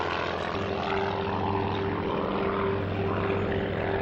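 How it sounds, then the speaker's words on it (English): Engine drone of a Supermarine Spitfire Mark 9, a propeller-driven fighter aircraft, holding a steady, continuous roar with a constant low hum throughout, sounding fairly close and alone without any voices. "a new Spitfire entered service, the Mark 9."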